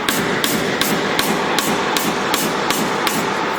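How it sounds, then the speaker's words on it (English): Hammer blows on a steering pitman arm being seated onto its splines, about nine sharp metallic taps at a steady rhythm, close and loud. "kind of start it on there with a hammer."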